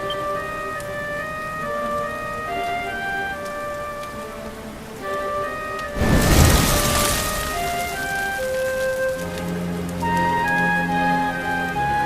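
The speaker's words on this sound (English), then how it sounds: "Looks like the rain's dying down." Rain falls in the video game Dragon Quest XI as a steady hiss beneath tonal game music, swelling into a louder, dense downpour burst midway before easing back.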